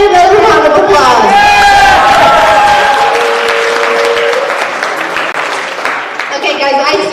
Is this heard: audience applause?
yes